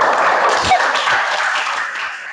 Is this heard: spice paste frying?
no